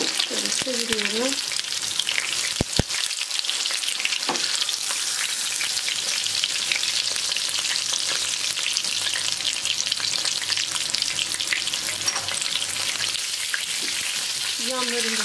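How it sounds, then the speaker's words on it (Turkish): Steady crackling sizzle of chicken frying in hot oil, continuous and close, with a brief clatter of utensils near the start. "Yağ iyice ısındıktan sonra tavukları atıyorum."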